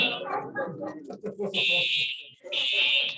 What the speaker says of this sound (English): Hopefully there's no smoke alarms in here.